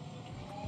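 A Toyota Innova converted to electric drive accelerates, giving a steady, fairly quiet motor and drivetrain hum with a faint rising whine and broad road noise throughout.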